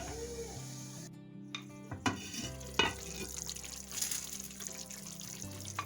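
Thai-style meat simmering slowly in soy sauce and water over low heat: a soft, steady bubbling bed with a low hum, broken by a few sharp knocks and clinks from a pot or spoon.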